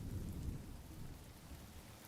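Rain in the video game Honkai: Star Rail, a steady faint wash of rainfall with a low rumbling undertone, continuous and even throughout with no voices.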